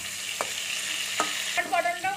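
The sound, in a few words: pointed gourd (potol) frying and being stirred in pan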